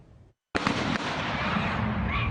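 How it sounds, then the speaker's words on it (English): Rapid cracks of multiple gunshots ring out at a vigil, recorded on site by a reporter. The burst begins abruptly after a brief silence and rattles on in a dense, echoing volley that sounds fairly distant. "Multiple gunshots can be heard there."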